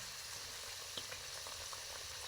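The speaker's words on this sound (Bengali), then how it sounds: "লাল লাল করে ভেজে নিতে হবে।" Chicken singara deep frying in hot oil, giving a faint, steady bubbling sizzle with a few soft pops, heard alone at low level.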